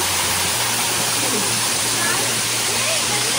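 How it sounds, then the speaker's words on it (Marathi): A waterfall pours steadily at a trek site near Shingu Devi, Bandhawadi, where people are bathing beneath it; a dense, constant rush of falling water fills the whole stretch with no break. "जरा धबधब्यामध्ये ही सगळे भिजत आहेत."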